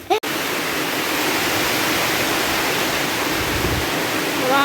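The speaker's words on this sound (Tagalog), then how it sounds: "Grabe na naman yung ulan" Heavy rain pours down in a dense, constant hiss that stays loud and even throughout, with a brief knock at the start.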